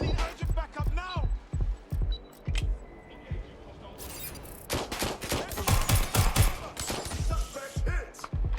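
Gunfire in the video game Watch Dogs: Legion, with a rapid series of sharp shots at first, then a dense burst of loud overlapping shots and impacts, while people shout over the firefight.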